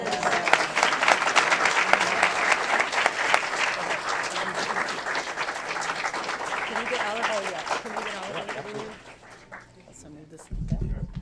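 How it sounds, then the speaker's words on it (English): A crowd applauds the Aurora Puerto Rican Cultural Council at a city committee meeting. Sustained clapping runs for about nine seconds with voices over it, then fades to a quieter murmur before a brief bump in noise. "Big round of applause for the Aurora Puerto Rican Cultural Council"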